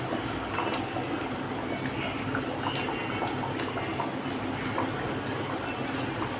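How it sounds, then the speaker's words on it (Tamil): A pot of Kovai-style dried-fish curry, karuvattu kuzhambu, bubbles on the stove in a soft, steady simmer of small pops and gurgles, faint and close with no talking. "இப்போ பாருங்கள், குழம்பு நல்லா கொதிச்சிருச்சு."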